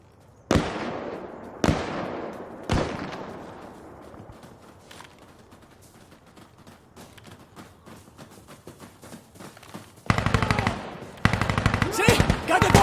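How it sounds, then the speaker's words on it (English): Bombing-run explosions and gunfire in the Insurgency Sandstorm video game: three loud, sharp blasts in quick succession, each decaying into rumbling debris, followed by a long crackle of scattered shots and then dense, sustained bursts of automatic fire at the end. "Got the bombing run right there!"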